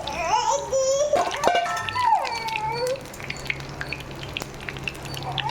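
Sardines frying in hot oil, a steady close bubbling sizzle that settles into a quieter crackle, with brief clinks and scraping from stirring.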